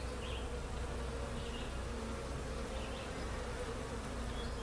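A small honeybee swarm buzzes steadily on a hive frame pulled out during an inspection, a dense continuous drone heard close up with no talking.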